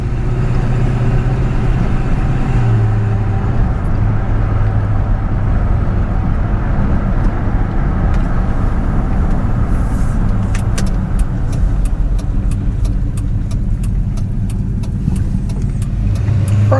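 An old-body-style Ford pickup truck drives down the road, with a steady, loud low rumble of engine and road noise heard from inside the cab. Light clicking and rattling sounds appear toward the end.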